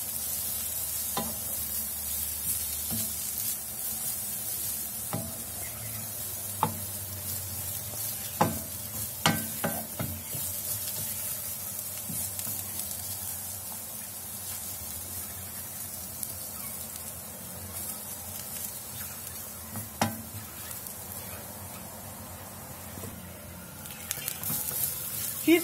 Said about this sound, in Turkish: Ara ara karıştıralım arkadaşlar. İyice lahanalar yumuşayana kadar pişirelim.